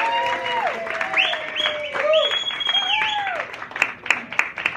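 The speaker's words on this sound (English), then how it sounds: "let's have a big round of applause for Jill." Crowd applause at a scout caravan's final show, clapping mixed with cheering voices and high whoops and whistles, growing into sharper claps toward the end.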